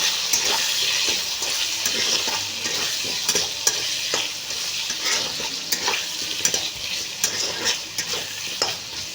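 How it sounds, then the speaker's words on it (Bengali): A soyabean dish sizzles in a kadai as a spatula stirs it repeatedly, producing a constant frying hiss broken by frequent scraping knocks, close up with no talking. "এবারে ভালো করে নাড়াচাড়া করে দেবো"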